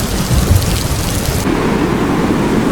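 Cartoon-style thunderstorm effect: a loud, continuous rumble of thunder over steady heavy rain, with the bright hiss of the downpour dropping away halfway through while the low rolling rumble carries on.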